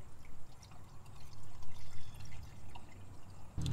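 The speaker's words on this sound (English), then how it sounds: "And we want to go ahead and dump the engine flush inside the oil." Liqui Molly engine flush is poured into the oil filler of a 2014-style Porsche 981 Cayman S, a soft, steady trickle and glug of liquid heard up close with a faint hum underneath.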